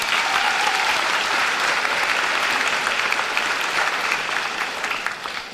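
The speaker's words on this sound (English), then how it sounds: "So give those wrestlers a round of applause." Sustained applause fills a high school graduation hall for the class's wrestlers, a thick crowd of clapping hands holding steady for several seconds before tapering a little at the close.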